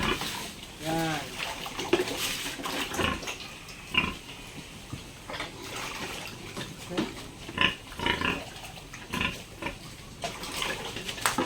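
Pigs grunting and chomping at feed, with wet slurping and occasional squeals, fairly close and busy, under a low background hum.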